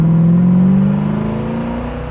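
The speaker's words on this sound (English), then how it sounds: "Listen to that four barrel." A 1969 Ford Mustang V8 with a four-barrel carburetor and four-speed gearbox revs loud and close, a deep steady engine tone that slides slowly upward while its exhaust sings.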